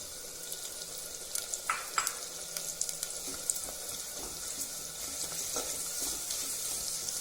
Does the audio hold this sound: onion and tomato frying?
yes